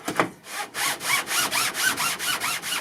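A guitar plate joint is rubbed back and forth over 120 grit sandpaper mounted on a carpenter's level, giving about nine even, loud rasping strokes in a steady rhythm with no talking.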